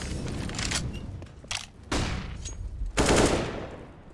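Counter-Strike gunfire in a Major grand final match: several bursts of rapid automatic fire and sharp shots, loud and close, with long spraying volleys at the end.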